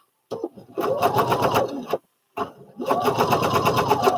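A sewing machine runs a long basting-like stitch on a Butterick 5967 garment, two loud rapid mechanical bursts of whirring needle strokes, close by, separated by a brief pause, with no talking.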